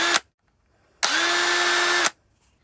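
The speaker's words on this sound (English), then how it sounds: "So I got this right angle attachment" A power drill fitted with a right-angle attachment whirs in loud, close bursts, first a brief blip and then a steady one-second run, with silent gaps between them.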